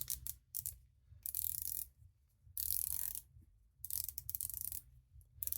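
Bursts of buzzy mechanical ratcheting as the rotating bezel of a Triwa Sub Ocean dive watch is turned, close and quiet, in several separate runs of rapid clicks with silent pauses between.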